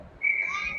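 A referee's whistle at a youth girls' ice hockey game, one sharp sustained blast lasting about half a second, fairly close and clear.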